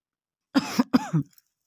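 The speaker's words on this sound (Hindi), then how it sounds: "अचानक ही मुझे खाँसी भी शुरू हो गई जब मैं एडिटिंग कर रही हूँ" Two quick, harsh coughs close up, one right after the other, with silence before and after.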